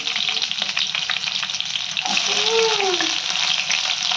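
Loud, bright sizzling of onions and tempering seeds frying in hot oil for okra tomato curry, close up and constant, with a brief background voice partway through.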